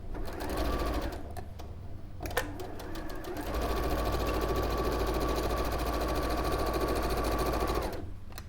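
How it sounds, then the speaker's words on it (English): A sewing machine stitches fabric pieces into a patchwork row for a small bag. It makes a loud, close, steady whirring run with a brief pause and a restart partway through, and no speech. "Right, so we'll sew those together, and this then makes a whole row."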